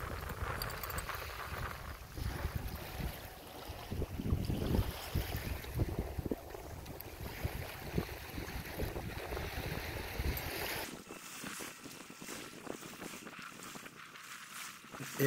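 Choppy water on the Mississippi River slaps and splashes continuously against a boat amid gusty wind, loud and close, then turns lighter and hissier near the end.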